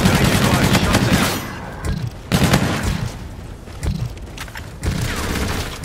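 Call of Duty: Infinite Warfare firefight with loud, dense bursts of automatic gunfire close by. The bursts come in roughly second-long volleys broken by short gaps, and booming thuds fall between them.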